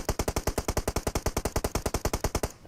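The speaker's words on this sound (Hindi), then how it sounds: "अभी इसका ये फायर हमारे भाई पे जाता है, वहां पे भी डैमेज।" An M4 rifle in a video game fires one fast, evenly spaced burst of roughly two dozen sharp shots, close and loud, with no voices over it.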